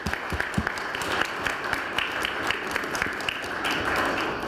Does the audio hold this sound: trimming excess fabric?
no